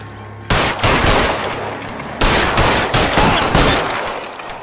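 Bursts of gunfire in the video game LA Noire, two to three loud, dense volleys of rapid shots, each lasting a second or more with brief gaps between.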